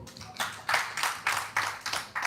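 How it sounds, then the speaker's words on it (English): An audience claps together in slow, steady, rhythmic beats for a few seconds. "Let us clap for them."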